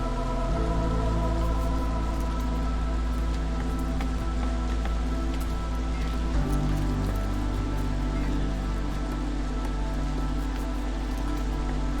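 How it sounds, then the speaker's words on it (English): Steady rain pours during a storm in the video game Against the Storm, a dense, continuous patter of drops over a low droning music bed, unbroken throughout with no voices. "we're in the middle of the storm right now, which is why it's so dark and rainy"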